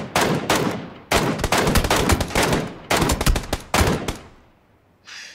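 Gunfire in the battle-royale game PUBG: several loud, close bursts of rapid automatic shots separated by brief pauses, followed by a short fainter burst at the end, with no talking.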